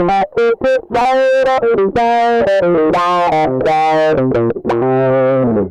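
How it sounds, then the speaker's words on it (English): Electric guitar through an Endorphin.es Ghost pedal with heavy distortion and a sweeping auto-wah filter, played as expressive sustained notes and quick bends, loud and continuous. "this is just kind of a classic distorted auto-wah"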